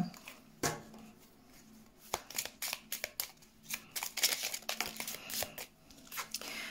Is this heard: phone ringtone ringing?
no